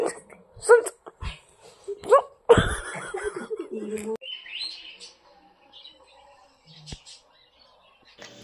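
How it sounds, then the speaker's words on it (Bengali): Pet birds wake up and start chirping indoors, scattered bright tweets and calls among bursts of nearby human voices, some laughter and a sharp yelp, the birds fainter as things quiet down. "আমার পাখিগুলো উঠে গেল, ওদের ছেঁয়াও মেয়াও শুরু হয়ে গেছে।"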